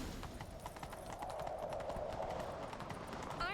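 Horse hooves gallop in a fast, even rhythm in The Witcher 3 video game, faint and somewhat distant throughout.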